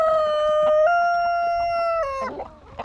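A loud rooster crow fills the moment, a long held call stepping up in pitch then breaking off, close and unaccompanied.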